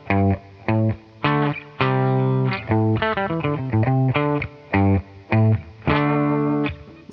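An electric guitar plays a distorted riff of punchy, stop-start chords and held notes, loud and up front with no voices.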